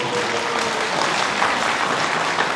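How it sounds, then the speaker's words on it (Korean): Audience at a Buddhist Saturday dharma talk at a temple applauds warmly, a dense, steady burst of many clapping hands filling the hall with no voices over it. "박수치네"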